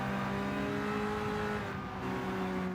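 Race car engines in Gran Turismo 7 hold a steady, loud drone with a sustained harmonic whine throughout, one engine pitch shifting slightly as cars jostle under braking.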